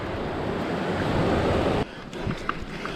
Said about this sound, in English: It's a lovely little river crossing.